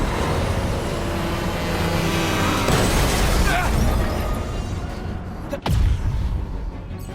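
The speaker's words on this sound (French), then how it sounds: "Oh, le camion." A heavy vehicle rumbles past on a busy city street with trams, a broad loud roar that swells and fades over several seconds, capped by a brief sharp clunk near the end.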